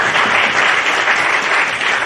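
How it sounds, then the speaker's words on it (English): An audience at a National Science Week talk breaks into steady, dense applause, many hands clapping together evenly and loudly throughout with no talk over it. "give yourselves a round of applause for coming out for Science Week"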